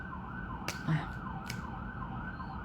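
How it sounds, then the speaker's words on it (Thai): A hospital ambulance siren passes outside, its steady wail rising and falling without a break at a moderate distance, muffled and fairly faint, with a couple of brief clicks nearby. "มีเสียงหวออีกแล้วขอปลอดภัยนะคะ หวอโรงพยาบาลวิ่งบ่อยมากนะช่วงนี้เนาะ"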